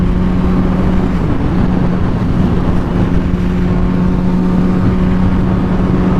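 A Honda CBR600RR motorcycle engine holds a loud, steady droning hum during a wheelie, with wind rush and no distinct rev swells.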